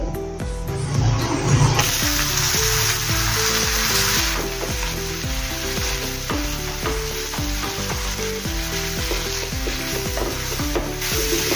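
Boiled green peas sizzle and fry in a pan of korma masala while being stirred and pressed, giving a steady close frying hiss with regular rhythmic scraping strokes and no talk.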